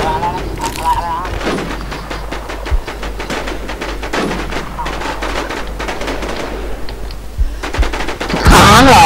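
Rapid, continuous automatic gunfire in the survival shooter Infestation, sustained bursts running through the whole stretch with louder cracks near the end, while someone speaks over it.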